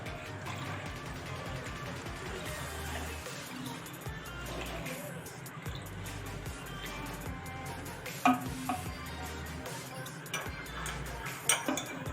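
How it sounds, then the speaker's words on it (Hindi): A spoon stirs a thick Multani sohan halwa mixture of flour batter in a pan, scraping with a steady rhythm over a low cooking sizzle, with a couple of sharp clinks against the metal near the end. "हमें इसमें मुसलसल चमचा चलाना है इस वक्त।"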